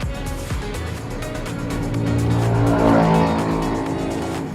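A Daihatsu Sigra 1000 climbs a hill in third gear, its small engine holding a steady, loud drone whose pitch rises gently and swells toward the middle before easing slightly, with no talk over it.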